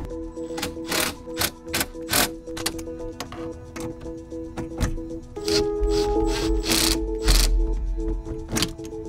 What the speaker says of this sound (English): you're gonna use the supplied hardware to bolt it down using a 10mm socket